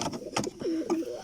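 Domestic pigeon cooing close by, two soft low coos in quick succession after a few brief rustles, with no voices.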